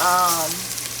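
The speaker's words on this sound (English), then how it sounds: "you're gonna fry it in batches on each side" Close, steady sizzling of chicken pieces frying in a hot pan, with a brief tonal voice-like hum fading out near the start.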